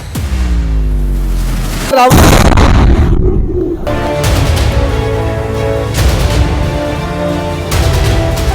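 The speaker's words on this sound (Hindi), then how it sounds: "लाल किला मेट्रो स्टेशन के गेट नंबर 1 के ठीक सामने खड़ी एक सफेद रंग की I-20 कार में जोरदार धमाका हुआ" A white i20 car parked at the gate of a metro station blows up in a car bomb, and the loud blast hits sharply after a continuous roar, followed by heavy rumbling and crackling noise.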